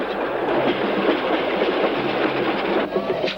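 A train rumbles along steadily with a dense, continuous rattling roar and faint clickety-clack, loud and close throughout.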